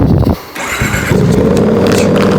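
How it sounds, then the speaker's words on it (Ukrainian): A VOGE DS800X Rally motorcycle fitted with a Scorpion exhaust revs loudly up close, a harsh blip dipping briefly before settling into a sustained throaty roar. "Це зараз він буде жорстко звучати напряму, тому довго газувати не будемо."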